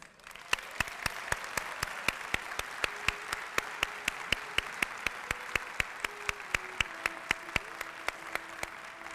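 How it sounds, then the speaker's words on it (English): An audience at a tourism awards luncheon in Virginia Beach applauds in sustained, even clapping, with sharp individual claps standing out over a steady wash of hands. "Please give a big round of applause and come up to accept your award, Miss Emily Galutu of the Swan Terrace."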